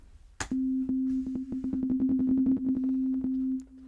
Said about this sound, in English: Nice little ping pong delay.